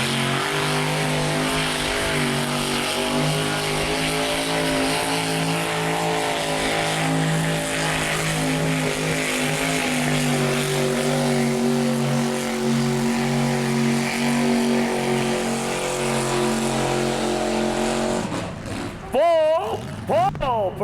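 A 700-horsepower 462 Chevy engine with a Turbo 400 driveline roars steadily under load in a limited modified 6,000-pound class truck pull, loud and sustained for the whole run, then cuts off abruptly near the end.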